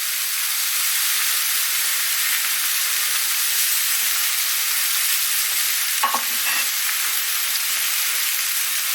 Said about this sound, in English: they go straight into the hot dry pan just with salt in the bottom